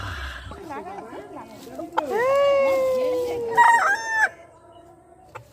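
Chickens in a backyard coop, a rooster crowing loudly up close in a long drawn-out call while hens cluck around it, with a person talking nearby.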